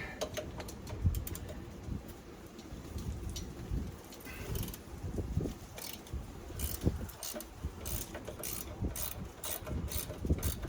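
A hand wrench works the top shock nut on a 1997 Chevy Tahoe 4WD K1500, quiet irregular ratcheting clicks and metallic rattles in a garage, with no talking.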